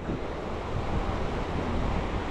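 Ocean waves break and wash along the shore at Playa del Carmen, a loud, continuous roar of surf close by, mixed with gusty wind buffeting the microphone, with no voices.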